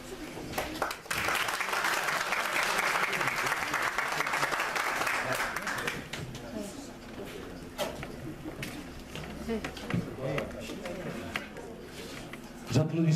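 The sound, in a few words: audience applause at a closing ceremony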